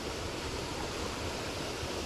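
Steady, dense rushing of a waterfall fed by storm drain runoff among reeds fills the whole stretch, constant and fairly loud with no breaks.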